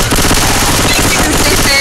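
Dense, loud automatic gunfire in The Parish video game, a continuous rapid rattle of shots filling the whole moment with no pauses.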